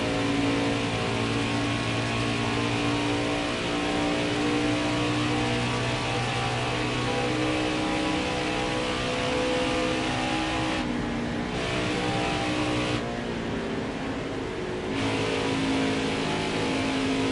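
NASCAR Craftsman Series trucks race at Michigan International Speedway, their engines roaring loud and steady as the pack passes, the sustained drone shifting in pitch with brief dips, no voices over it.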